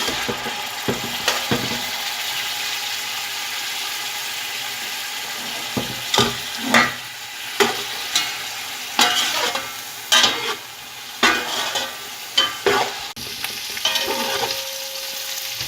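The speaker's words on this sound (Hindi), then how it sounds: "अब मैं इसमें जो बॉयल चिकन हमने किया था वो ऐड कर दूँगी। अब इसको भी फ्राई कर लेंगे।" Boiled chicken fries in a pot with garlic and ginger, a low steady sizzle under repeated clattering scrapes of a spoon stirring against the metal, growing busier in the second half.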